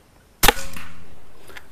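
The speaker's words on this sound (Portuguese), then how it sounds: "Primeiro disparo." A P35X Evolution air pistol fires a slug at a target 51 metres away. The single sharp, close crack is followed by a fading whoosh, and a faint distant tick comes about a second later.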